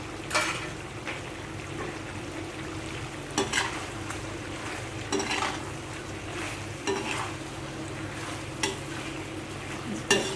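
Onions tipped into a hot pan for a chicken Mughlai, sizzling steadily while a spoon scrapes and stirs them in repeated strokes, close and fairly loud.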